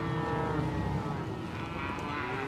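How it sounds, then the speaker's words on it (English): Young dairy calves moo together on a farm, a loud continuous chorus of overlapping low bellows, close by with no talk. "Some of these ones they'll get to stay on this farm, and they'll become our dairy cows when they get big."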